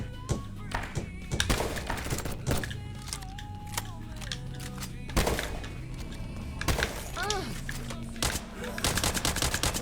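Weapons fire in bursts and single shots during a Roblox video game, sharp cracks scattered over a busy game soundscape with tonal effects and a voice talking now and then.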